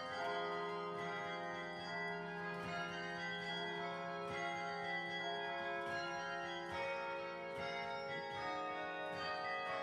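Three large swinging church bells, part of a 49-bell carillon, ring together close by, their deep overlapping tones and strikes sounding continuously.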